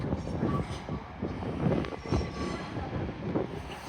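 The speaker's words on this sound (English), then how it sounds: "Arriving in now after my food break. It's a dual pair of Transpennine Express 185 from Manchester Airport to Redcar Central" A pair of TransPennine Express Class 185 diesel units arriving at York station, rumbling and clattering at moderate distance, with faint wheel squeals over steady rolling noise.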